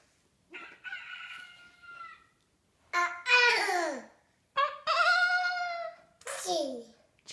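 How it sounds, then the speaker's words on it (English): Rooster crowing comes in several separate bursts with pauses between them, mixed with a toddler's voice, in a quiet indoor setting. "Chicken. Chicken. Rooster."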